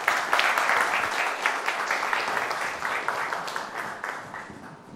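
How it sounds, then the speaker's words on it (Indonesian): Studio audience at a televised Indonesian talk show applauds steadily for several seconds, a dense wash of clapping that gradually fades. "Boleh tepuk tangan hadirin sekalian."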